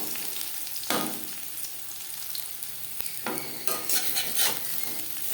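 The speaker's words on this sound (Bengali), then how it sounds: "ভেন্ডি ভাজবো মিডিয়াম ফ্লেমে" Okra (bhindi) frying in hot oil over a medium flame, a steady close sizzle broken by a few louder stirring scrapes and crackling bursts, with no voices.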